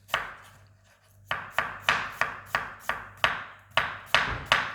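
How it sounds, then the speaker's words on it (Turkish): A knife chops onions into thin julienne strips on a cutting board, steady crisp cuts repeating about twice a second, close and loud after a brief pause. "Soğanlarımızı Julien dediğimiz şekilde doğruyoruz."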